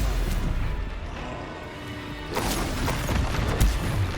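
Stupefy spell cast in Hogwarts Legacy gives a booming magical burst with a crackling impact, rumbling low, easing briefly, then flaring again with bright, sharp crashes.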